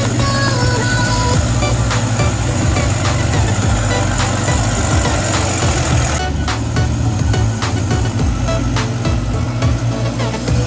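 Several heavy trucks roll into a sand mining area in a convoy, their diesel engines rumbling and idling loudly and continuously up close with no talk.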